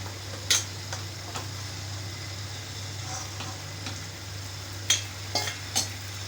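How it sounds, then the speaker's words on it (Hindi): Fried eggplant pieces go into a vegetable curry frying in a pan, a low steady sizzle over a constant hum, with a few sharp clicks of a utensil against the pan. "अब हम इसके अंदर बैंगन शामिल कर देंगे फ्राई किए हुए।"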